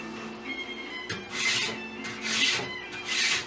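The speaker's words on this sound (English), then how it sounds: "it takes off a bunch of wood much faster than a regular sandpaper would" A cheap hand planer rasps along the wooden edge of a large canvas frame, shaving off wood in three or four long rough strokes, close and fairly loud with no talk.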